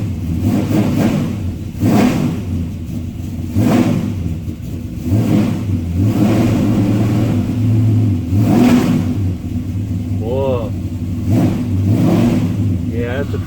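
A car engine fires right up and keeps running with a steady, loud mid-range rumble, the revs rising and falling slightly, while someone talks over it.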